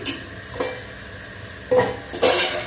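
A lid is set onto a cooking pot of leafy greens, giving two distinct clinking knocks close by after a quiet stretch of faint kitchen background, with no talking.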